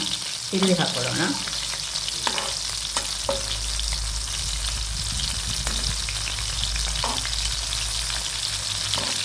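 Sardines coated in rava sizzle loudly in a hot pan, a constant crackling fry broken by a few clinks and scrapes as the fish are slowly turned over.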